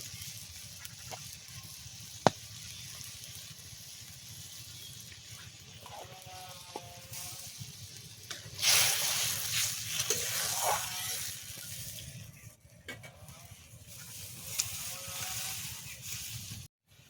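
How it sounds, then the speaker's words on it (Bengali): Tamarind sour soup with river prawns simmers in a pot in a village kitchen, giving a steady soft bubbling hiss with a brief louder burst of sizzle midway, no talk. "তেঁতুলের টক ওই জন্যে বেশিক্ষণ ফোটালে ভালো লাগবে, 5 মিনিট ধরে ফোটাবো"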